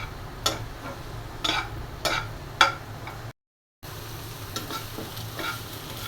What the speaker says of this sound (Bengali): ছাদ বাগানের তাজা কলমি শাক ভাজা দিয়ে গরম গরম ভাত খেতে কিন্তু দারুণ লাগবে।